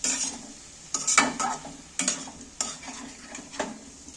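A spoon stirs egg curry masala in a pan, with four or five distinct scraping strokes over a soft sizzle, fairly quiet and close.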